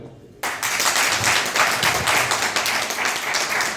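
An audience at a regional channel's event breaks into loud, sustained clapping that starts abruptly after a brief quieter moment and carries on steadily.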